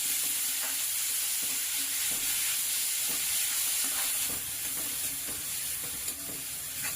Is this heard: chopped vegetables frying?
yes